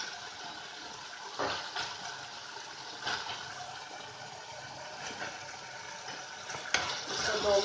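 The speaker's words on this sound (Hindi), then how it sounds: "अब इसमें थोड़ा सा पानी डालेंगे हम।" Water poured into Veg Manchurian sauce in a hot pan gives a steady soft hiss and sizzle, with a few sharper splashy bursts rising from the constant background noise.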